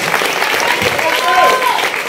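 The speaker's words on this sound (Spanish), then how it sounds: "Y un fuerte aplauso para todo el equipo de Psycho Brown." A concert crowd applauds the Psycho Brown team, a dense continuous wash of clapping and cheering with a voice over the PA mixed in.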